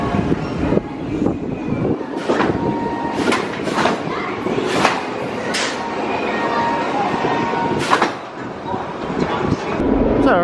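A mine train roller coaster at Six Flags Over Texas rumbles and clatters past with wind noise, bursts of sharp squeals, and indistinct voices mixed into the loud, continuous roar.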